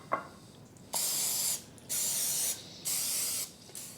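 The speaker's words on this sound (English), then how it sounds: "I'm just going to use vegetable spray." Three short bursts of aerosol vegetable oil cooking spray hiss in succession, each about half a second long, greasing a baking pan, preceded by a couple of faint clicks.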